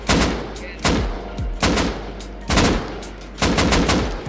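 Gunfire in the survival game Rust: four loud, sharp bursts of rapid shots spaced about a second apart, each ringing out briefly before the next, with no talk over them.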